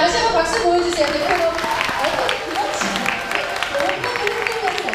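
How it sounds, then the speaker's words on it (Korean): An audience claps at a game showcase event for the Mabinogi update, a lively burst of applause under an announcer's voice speaking over the crowd. "다시 한번 박수 보여주세요"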